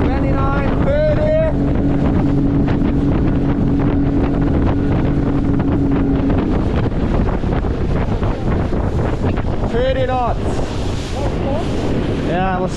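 Highfield Sport 390 RIB inflatable boat running flat out at 30 knots on calm water: a loud, close, continuous engine and hull drone with heavy wind buffeting across the microphone throughout.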